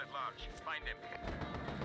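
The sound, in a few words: gunfire in the video game Just Cause 3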